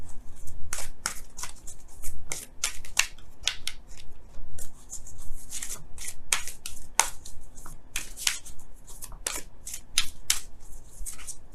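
Romance Angels oracle cards being shuffled up close, a run of crisp riffling bursts and slaps that comes in quick irregular clusters for about eleven seconds, with no talking.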